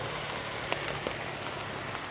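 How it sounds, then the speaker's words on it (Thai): Heavy rain pours steadily on a street in northern Thailand during the rainy season, a dense, even hiss with a few sharper drips standing out, and no voices. "ฝนก็ไม่มีทีท่าที่จะหยุดเลยนะ"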